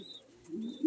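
Derby racing pigeons coo softly nearby, a brief low murmuring call.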